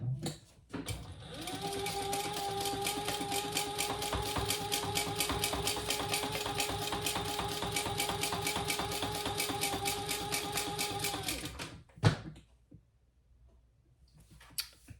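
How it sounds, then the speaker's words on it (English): A sewing machine top stitching fabric wing pieces for a crossbody bag, running in one long rapid, even burst of stitching for about ten seconds, then stopping with a couple of clicks and knocks. "You're going to top stitch on these wing pieces."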